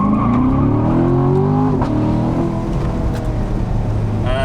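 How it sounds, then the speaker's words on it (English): A Chevrolet Corvette C7 Stingray on a canyon road goes to full throttle, its engine note loud and steady and rising in pitch through a gear, with a brief dip before it climbs again and no voices over it. "So plant the throttle."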